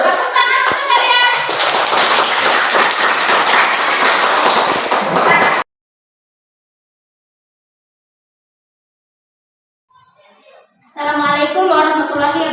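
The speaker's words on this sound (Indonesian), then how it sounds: "Tepuk tangan untuk kalian." Students receive applause in a classroom at the end of an academic coaching session: a loud burst of many hands clapping for about five seconds, then silence, then a second burst of clapping starts up.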